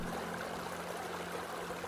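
Steady, soft broadband rush of a flowing stream or river in Texas, continuous and even throughout with no voices, heard from close by.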